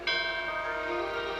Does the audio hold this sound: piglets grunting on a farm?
no